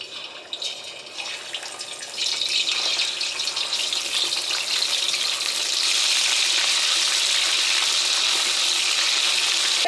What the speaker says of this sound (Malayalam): ഇതിലേക്ക് നമ്മൾ സ്റ്റീം ചെയ്ത് വെച്ചേക്കുന്ന ചിക്കൻ ചേർക്കാം.